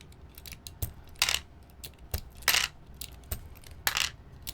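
Cream linear clicky mechanical keyboard switches snapping in sharp, bright clicks, a handful of separate presses spaced irregularly, close up and fairly quiet.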